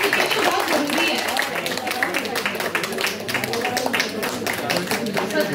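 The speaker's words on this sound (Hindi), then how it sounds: "प्लीज तालियों से सबका स्वागत करिए बेटा" An audience claps to welcome participants at an inclusive poetry competition, a steady ripple of applause lasting throughout, mixed with talking voices.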